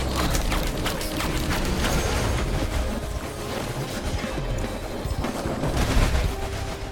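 Fireworks hitting enemies in the video game Risk of Rain 2, a rapid crackling barrage of sharp popping bursts layered over game music and mechanical clatter, continuous for several seconds.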